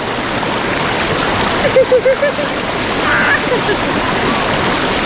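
A strong river current rushes steadily with broad, continuous splashing water, while a nearby voice gives short excited cries partway through.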